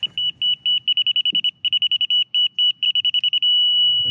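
A laser level's rapid high-pitched electronic beeps in quick bursts, then settling into one continuous steady tone near the end as it finds the right spot.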